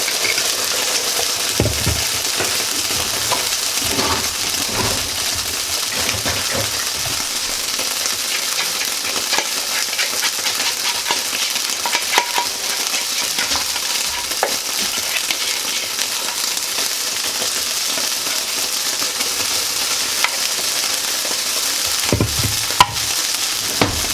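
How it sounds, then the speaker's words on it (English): Chicken sizzles and crackles steadily in a hot electric frying pan, a continuous frying hiss with occasional scraping and stirring sounds. "we're just going to put this in the electric frying pan for just a few minutes"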